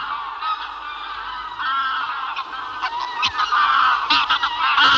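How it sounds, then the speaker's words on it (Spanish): A flock of wild geese honks continuously at a forest lake in Scotland's Caledonian forest, overlapping calls rising and falling, fairly close and loud. "el ganso silvestre llega procedente de Islandia"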